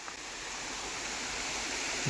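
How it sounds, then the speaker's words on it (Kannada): Water flowing at Arbi Falls near Manipal, running low in the dry season: a steady, even rushing hiss of falling water, close and continuous, with no voices. "ಇದು ನೀರು ಎಲ್ಲಿಂದ ಬರ್ತುಂಟು ನೋಡಿ ಎಂತ ಬ್ಯೂಟಿಫುಲ್ ಆಗಿದೆಯಲ್ಲ"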